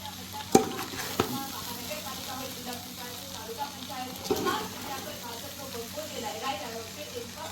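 Batata poha, flattened rice with potato, is stirred and mixed in a pan with a continuous soft scraping and sizzling, with a few sharper clanks of the spoon against the pan and faint voices in the background.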